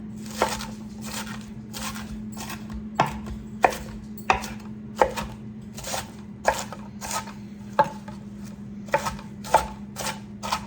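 Romaine lettuce chopped on a board for a salad, a series of about fifteen crisp knife strokes at a loose, fairly regular rhythm, close and clear over a low steady hum, with no talking.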